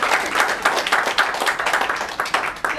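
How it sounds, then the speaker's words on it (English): A room of people at a comedy improv session claps loudly, the individual hand claps clear and rhythmic before the applause thins out toward the end. "Give yourself a round of applause."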